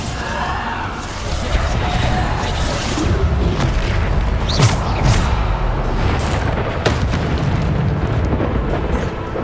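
A Bombarda spell blasts in Hogwarts Legacy amid loud, continuous rumbling booms and bursts of combat, dense and close throughout.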